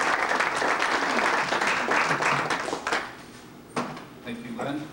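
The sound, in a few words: audience applause welcoming a seminar speaker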